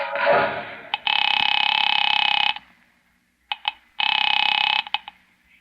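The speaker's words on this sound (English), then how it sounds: "Picking it up quietly, I dialed my daughter's number, Alec Bartlett's wife." A 1940s telephone in a radio drama, with a clunk as the receiver is lifted, then two long buzzing tones broken by short clicks as a number is dialed, close and clear with no voices.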